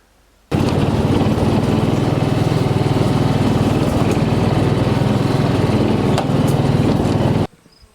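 A small two-stroke chainsaw cutting wood buzzes steadily at close range for about seven seconds, then cuts off abruptly, leaving near silence.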